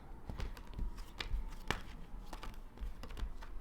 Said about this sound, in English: I want to shuffle those back in.